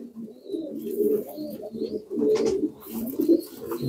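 Adult homing pigeons coo repeatedly up close in soft, throaty rolling phrases, with faint chirps from other birds in the background.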